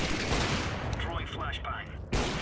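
A decoy grenade in Counter-Strike: Global Offensive sputters out fake gunfire, a dense rattle of shots over continuous battle noise, ending with a sharp loud burst.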